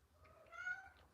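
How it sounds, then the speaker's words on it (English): A house cat gives a single drawn-out meow nearby, rising and then falling over about a second, quiet against a faint indoor background. "I don't know which kitty cat."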